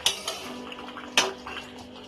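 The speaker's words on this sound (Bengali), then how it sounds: "30 মিনিট হয়ে গেছে, ঢাকাটা এবার খুলবো।" A metal lid comes off a pot of simmering Bengali mutton curry with potatoes, giving a sharp clink at the start, a lighter tap, then a second louder clank, ringing briefly over a faint bubbling background, with no voices.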